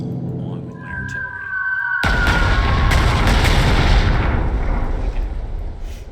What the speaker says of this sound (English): I'm going to use my strategic bomber to soften up that target along with my artillery